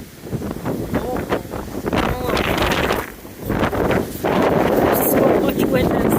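Blizzard wind in Bar Harbor, Maine, roaring and buffeting a nearby microphone in steady loud gusts with snow blowing, while a person speaks briefly amid the rush.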